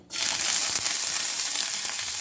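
Loud, steady sizzling of tempering spices dropped into hot oil, a dense crackling hiss starting abruptly and continuing throughout with occasional pops.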